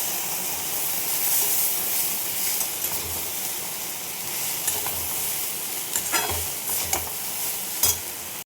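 Chow mein noodles sizzle and fry in a pan with vegetables and egg, broadband hiss steady throughout with scraping stir strokes and clatters near the end; no talking.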